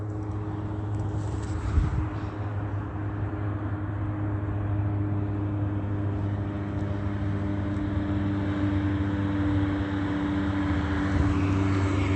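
An airplane passes overhead as a steady, low droning hum of engine noise that holds level for several seconds, heard outdoors with no voices.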